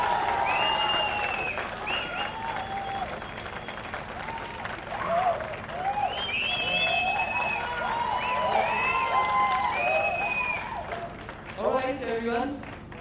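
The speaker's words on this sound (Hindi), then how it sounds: "एक बार जोरदार ताली हो जाए" An audience at a serial launch event claps steadily for several seconds, with scattered cheers and whistles and voices heard over the applause.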